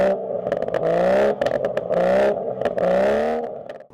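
BMW F30 340i with a Scorpion exhaust, stock silencer retained, revving repeatedly in loud, close rising and falling sweeps, with short gaps between each pull.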